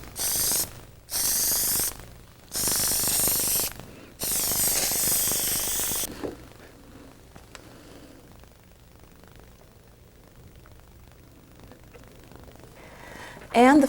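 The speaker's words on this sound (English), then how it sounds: "Now I'm going to lay it down on some newsprint and spray it with spray adhesive" Spray adhesive hisses from an aerosol can onto paper laid over newsprint in four loud bursts, each a second or so long, followed by a longer quiet stretch.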